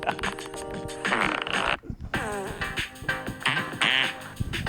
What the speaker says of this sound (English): Just a calm fart song.